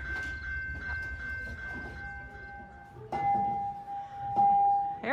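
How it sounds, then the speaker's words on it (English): A train passes nearby with rumbling wheels and clicking over the rails, a sustained horn tone sounding and shifting pitch as it goes. "Comes the train."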